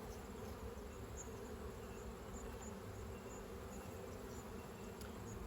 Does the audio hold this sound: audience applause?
no